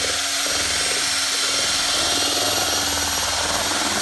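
A power drill whirs steadily at close range, its motor droning continuously with a gritty churning texture as it mixes thick compound in a bucket.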